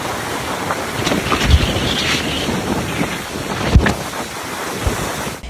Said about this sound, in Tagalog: Dinig din ang pagsipol ng hangin sa Batan Island.